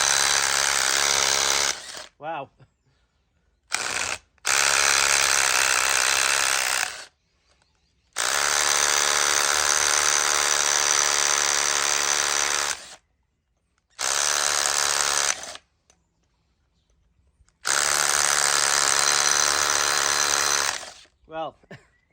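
A Makita 8-function drill chisels very hard, dense aggregate concrete in loud, close bursts of rapid hammering, split by short pauses. A voice gives a brief exclamation during one gap.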